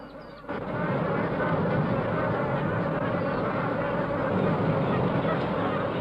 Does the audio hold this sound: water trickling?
no